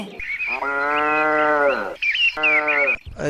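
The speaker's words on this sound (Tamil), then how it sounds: "ஜெர்சி இருக்குது சார் ஹெச்எப் கிராஸ் இருக்குது அஞ்சு மாடு இருக்குது" Jersey and HF cross dairy cattle on a farm moo loudly nearby, two long drawn-out calls with a short break between them.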